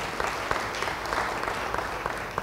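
A church congregation gives a round of applause during a sermon, a fairly soft but steady crackle of many hands clapping together, with a few sharper claps standing out.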